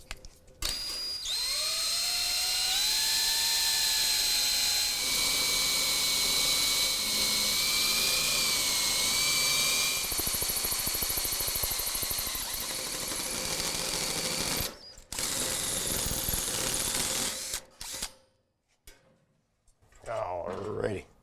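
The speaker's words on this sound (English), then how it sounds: "So we're gonna drill this holio right here." A power drill bores a hole through the metal wall of a BBQ smoker for a thermometer, whining loudly and steadily for about fifteen seconds, its pitch shifting as it bites, then cutting off in short bursts.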